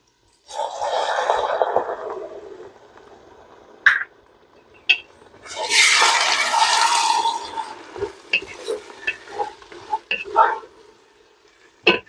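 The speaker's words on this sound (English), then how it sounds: "I'm going to add my half a cup of white wine to deglaze my pan" White wine poured into a hot pan to deglaze it for French onion soup, giving a loud burst of sizzling that starts, dies down, then flares again. Scattered pops and clicks come in between.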